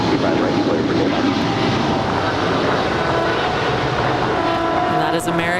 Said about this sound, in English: And that is American 136 off to London Heathrow 777-300 ER